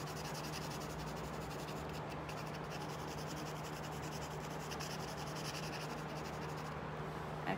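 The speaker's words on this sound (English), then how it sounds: "you're going to blend the Conte pencil" A Conte pencil and 2B pencil rub and scratch steadily across paper while shading and blending a kindergarten cubist self-portrait, a close, continuous dry scratching with a low hum underneath and no talk.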